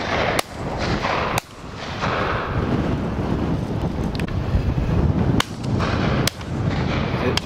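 Shotgun blasts at partridges on a Dorset shoot, several sharp reports spaced irregularly over heavy wind noise buffeting the microphone outdoors.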